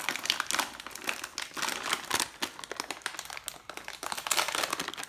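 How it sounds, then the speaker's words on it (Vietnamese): Packaging of coconut cookies being torn open and unwrapped close up, giving continuous crinkly plastic rustling with sharp crackles and rips, with no voices. "giờ sẽ bóc ra nha"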